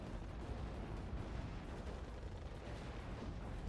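Mortar fire in the real-time strategy game Act of Aggression is a dense, continuous low rumble of distant blasts, fairly faint and blending into one another without clear separate hits.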